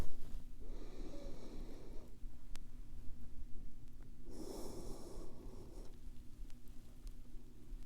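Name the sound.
deep breathing in and exhaling during ball belly massage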